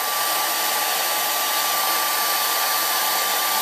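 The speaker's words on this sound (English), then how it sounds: "to speed up the drying, I will take a hair dryer." A hair dryer blows steadily at close range to dry a wet painting, a constant loud whooshing hiss with a faint motor whine and no talking.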